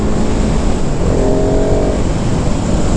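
A 2020 KTM 690 SMC R motorcycle accelerating in second gear, a loud, continuous engine roar with wind rush at close range, a rising tonal whine briefly emerging in the middle.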